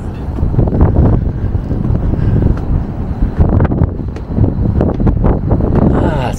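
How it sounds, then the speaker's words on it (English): Strong wind buffets the microphone on the open upper deck of the cruise ship Iona at sea, a loud continuous low rumble with gusting surges throughout, and brief faint voices beneath the roar. "Nice and breezy."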